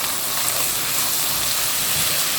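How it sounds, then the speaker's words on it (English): Sausage sautéing in a pan, a steady broadband sizzle holding at an even level throughout with no talk over it. "I'm going to saute this for a bit. I want my sausage to cook through before I add my tomatoes"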